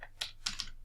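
Fingers tap a computer keyboard while entering a username and password, three or four quick, close, clicky keystrokes in an uneven burst with no talk.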